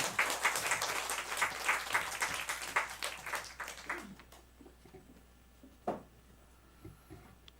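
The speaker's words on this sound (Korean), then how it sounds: "목사님 나오실 때 박수로 환영했습니다." Church congregation clapping to welcome a pastor to the pulpit at a Sunday service, a fairly faint round of applause that thins out partway through, leaving a few scattered claps and room noise.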